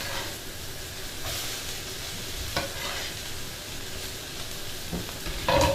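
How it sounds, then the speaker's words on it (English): Peppers and onions frying in a hot pan, a continuous loud sizzle and hiss with occasional stirring scrapes and clatters of the vegetables being tossed. "In you go with your peppers and your onions."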